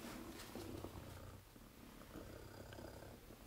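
A gray cat on a ranch purrs steadily and softly, a close, continuous low rumble with no talking.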